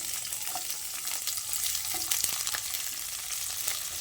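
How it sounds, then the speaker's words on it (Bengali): Chopped capsicum fries with ginger in hot oil, giving a steady close sizzle with light stirring scrapes throughout. "দিয়ে এটা আদার সঙ্গে ভালো করে ভেজে নিচ্ছি"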